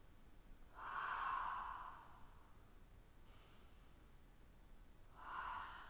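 A deep breath during a yoga session for neck and shoulder pain, taken after rubbing oil between the hands: a long, soft, airy inhale, then a quieter exhale and a shorter second breath, close and calm with no talking.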